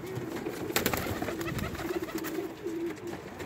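Baby Pakistani high-flying pigeons coo softly and repeatedly in a closed loft, close by, with soft rustling and no talk.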